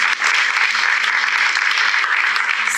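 Studio audience clapping on a Macedonian TV game show, a brief burst of steady, even applause that stays loud and uniform for a few seconds.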